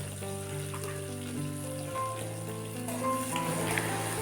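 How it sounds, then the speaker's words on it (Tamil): Sliced onions and rock salt fry in a pan of spluttered mustard seeds, giving a steady, close sizzle with soft crackles throughout, while tonal music plays underneath. "கட் பண்ணி வச்சுருக்கிற 3 மீடியம் சைஸ் பெரிய வெங்காயத்தை இதில் ஆட் பண்ணிக்கிறேன்"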